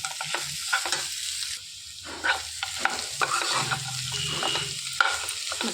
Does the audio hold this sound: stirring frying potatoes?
yes